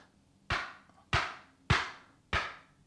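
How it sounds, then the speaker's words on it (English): A hammer strikes a Fox Baseframe Pro chest guard worn on the body, four sharp, loud, evenly spaced hard knocks about half a second apart, each with a short ringing decay. "I'm just gonna look mental just bashing myself with a hammer right now."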